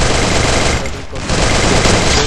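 MP40 submachine gun fire in the Free Fire video game on the Bermuda map, a loud dense burst of rapid shots with a brief break in the middle before the firing resumes.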